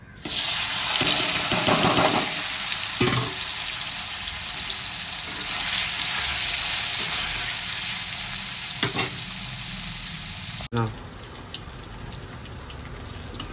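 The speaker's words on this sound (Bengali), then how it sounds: "একটু পনিরটা ভেজে নেই। পনিরটা দিয়ে দিচ্ছি আমি।" Paneer fries in a hot pan, a loud continuous sizzle with bursts of spattering and stirring scrapes, close and steady, easing slightly toward the end, with no talk.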